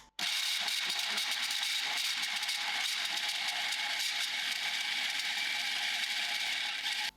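A food grinder churns falafel mixture with a loud, steady whirring drone that runs unbroken for about seven seconds, then cuts off abruptly.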